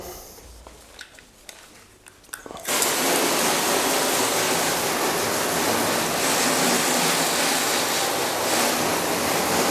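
Car being rinsed with a water spray after a wipe-down, beginning abruptly after a few quiet seconds of small knocks and then hissing loud and steady.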